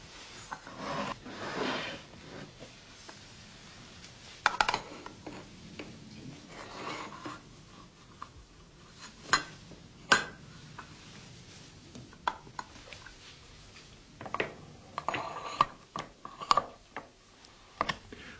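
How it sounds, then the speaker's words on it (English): A hand-cranked can sealing machine, rollers seaming a lid onto a can, turning with quiet clicking and ratcheting, irregular metallic knocks and scrapes, close and fairly soft. "Rollers joined the lid to the can in a continuous seam"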